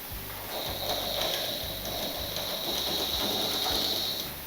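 A sewing machine stitches a petticoat (chemise) fabric piece, its needle mechanism clattering in a steady, fast rhythmic chatter close by, running continuously without speech.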